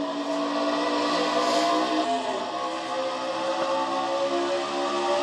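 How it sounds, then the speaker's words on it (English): Race cars roar around the Atlanta oval in a Castrol GTX Cup Series race, a dense, continuous engine drone from the close pack, loud and unbroken throughout. "And we're back to green flag racing here at Atlanta."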